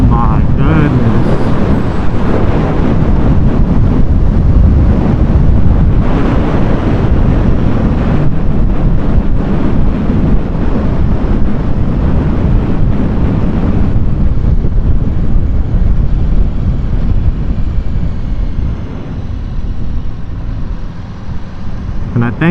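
Stock Aprilia RSV4 Factory sport bike ridden fast, heavy rushing wind buffeting the microphone over a constant engine roar that eases slightly toward the end.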